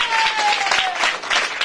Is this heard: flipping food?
no